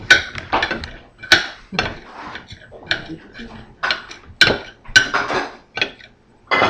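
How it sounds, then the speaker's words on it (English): Knife chopping onions on a cutting board while cooking an omelet at home, heard as a series of sharp, irregular chopping knocks close by, with brief talk between the strikes. "We chopped all the onions."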